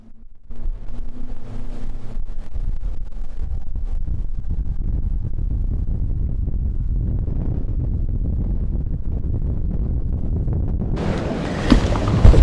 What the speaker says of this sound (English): Got some wind today, very windy.